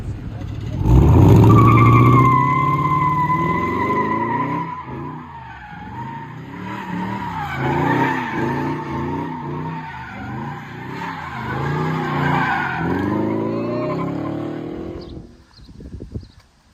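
A Dodge Charger R/T with a full exhaust and matte black paint drives on a two-lane road, its loud engine roaring and rising with sharp tire noise, while people talk excitedly over it throughout.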